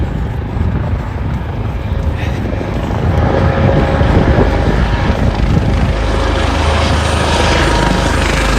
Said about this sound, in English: That is one of the helicopters from the Navy Yard.